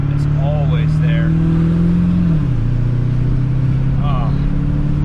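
A built 7.3-liter Powerstroke diesel truck engine drones steadily while driving on the road, its low hum holding then dipping slightly as it shifts, with someone talking over it throughout.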